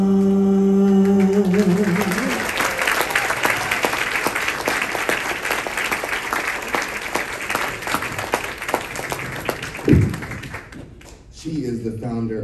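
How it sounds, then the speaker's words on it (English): Audience applause and clapping at a community event, sustained and dense for about ten seconds, starting under a fading musical tone, with a thump near the end before voices resume. "give Ms. Lockhart just another huge round of applause"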